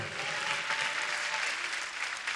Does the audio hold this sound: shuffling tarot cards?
no